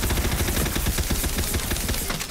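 Rapid automatic gunshots from a weapon in Tiny Tina's Wonderlands, a loud, close, continuous burst of evenly spaced shots lasting about two seconds.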